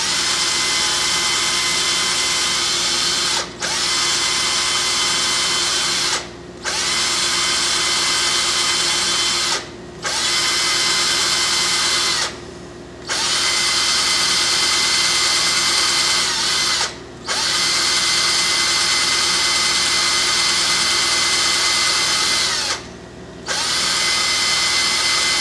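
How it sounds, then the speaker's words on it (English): A power drill bores into a carved wooden coffee pot, its loud steady whine running close and continuous, broken by about six brief pauses as the bit stops and restarts. "I'm going to drill each way and hopefully meet in the middle."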